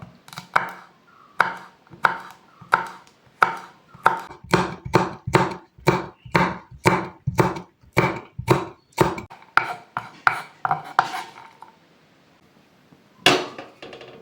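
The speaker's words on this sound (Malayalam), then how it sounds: "രണ്ട് പച്ചമുളക് എടുത്തിട്ടുണ്ട് ഇത് ഒന്ന് വട്ടത്തിൽ അരിഞ്ഞെടുക്കാം" A knife slices two green chillies into rounds on a board, a quick even run of about two dozen sharp close cuts, then a brief pause and a few final chops, with no talking.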